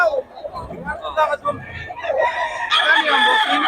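Roosters at the Bocaue chicken market, crowing and clucking amid a busy crowd, with a sustained crow rising near the end over market chatter and people talking.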